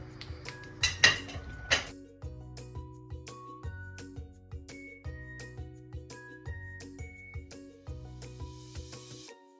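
A spoon clinks against a bowl while stirring tomato and pepper paste into çiğ köfte, with a few sharp clinks early and lighter scrapes under background music.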